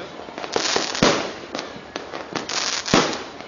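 New Year 2008 fireworks bursting outdoors, a rapid irregular series of sharp loud cracks and pops, several close explosions with brief crackling tails, no talk.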